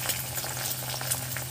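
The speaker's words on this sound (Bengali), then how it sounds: "ডিম ভাজা মানে ডিম ভাজা হচ্ছে" An egg frying in a pan for khichdi, a steady, close sizzle with faint crackles running evenly throughout, no talking.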